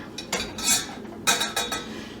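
Boiled baby potatoes are lifted from a pot of salted boiling water, giving a few close clinks of utensil against metal pot with light splashing, in brief bursts with no talking.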